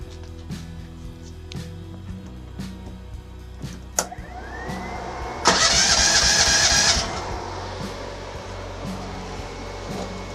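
A small engine is started after a few quiet mechanical clicks and a sharp knock. It then bursts into a loud, rough running roar for about a second and a half before dropping back to a low idle rumble, close by and with no talking.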